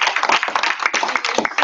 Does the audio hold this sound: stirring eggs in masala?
no